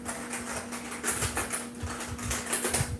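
Fast clicking keystrokes on an old keyboard, a dense, steady patter of key presses running throughout at close range over a faint constant hum, with no voices.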